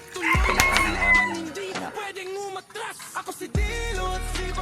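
A gamefowl rooster crows loudly and close by, two long strained calls with a short gap between them, amid some background noise.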